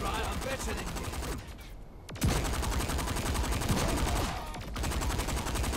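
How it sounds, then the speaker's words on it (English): Rapid rubber band gun fire in Saints Row IV, loud repeated snapping shots in bursts with brief pauses between them, mixed with other game noise. "my gun makes rubber band noises when it shoots"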